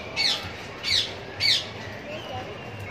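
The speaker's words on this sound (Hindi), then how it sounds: "जैतूनी गानी वाला तोता" An olive-winged parrot at Lahore zoo gives three harsh, shrill squawks at even intervals, fairly close and loud, followed by quieter background murmur.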